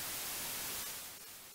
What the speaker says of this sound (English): If I monitor the audio one, you should hear some white noise.